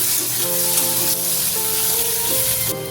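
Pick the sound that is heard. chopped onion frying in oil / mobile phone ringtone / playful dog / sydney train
chopped onion frying in oil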